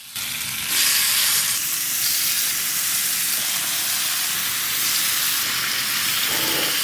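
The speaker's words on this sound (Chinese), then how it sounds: "平底锅里抹一层油，下入腌好的猪肉片" Marinated pork slices sizzle in an oiled flat frying pan, a loud, dense, continuous frying hiss with slight surges throughout, no voices.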